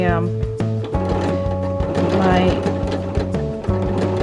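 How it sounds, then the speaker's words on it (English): A sewing machine runs steadily at close range, its rapid mechanical stitching and whirring hum continuing as a band is sewn onto a shirt. "I'm just working on sewing my"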